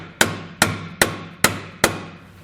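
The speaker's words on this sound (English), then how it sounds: "you might have to tap it in with a little hammer to get it in place because it's such a tight fit" A small hammer taps a spacer into a tight fit on a Roadmaster Direct-Connect base plate on a 2021 Jeep. Five sharp metallic strikes land at a steady, even rhythm, close and clear with no talk.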